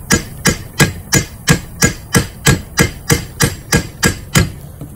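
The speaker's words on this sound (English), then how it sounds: "Got a rubber mallet. Of course, I'm hammering on the piece that I don't want to break." A rubber mallet strikes a bus water pump in a steady series of about fourteen evenly spaced blows, close and distinct, with a faint engine-like hum in the background.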